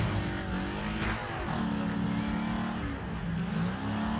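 Car engines accelerating in the Wreckfest racing game, a close, continuous engine drone whose pitch slides up and down as the cars rev and shift, loud and steady with no talking.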